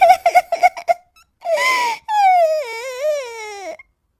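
A voice imitates crying: short rhythmic sobs, then a breathy gasp and a long, wavering wail, loud and close with brief pauses.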